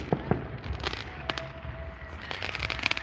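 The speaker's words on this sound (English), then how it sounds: "there's a fireworks display down here tonight" An outdoor fireworks display in Colville, Washington, heard as scattered booms, pops and crackling bursts at a distance, with several sharp reports over a steady background rumble.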